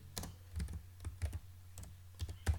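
Fingers tap on a computer keyboard in a few quick, irregular bursts of clicks, close by and fairly quiet, with no talking.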